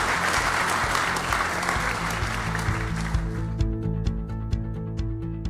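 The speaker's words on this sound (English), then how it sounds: "bring your hands together and give these people a round of applause" Live audience applause at a London insurance-technology podcast event, a dense burst of clapping that thins out after a few seconds as music comes in underneath.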